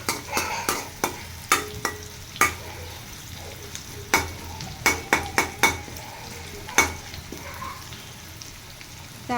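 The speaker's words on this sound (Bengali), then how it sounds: "লাল লাল করে ভেজে নেওয়া পেঁয়াজের ভিতরে আমার বলক তোলা মাছটা ঢেলে দিলে সুন্দর একটা ফ্লেভার আসে।" Boiled rohu fish is tipped into onions fried deep red, and a continuous sizzle runs under repeated sharp clinks of a spatula against the pan, loud and close.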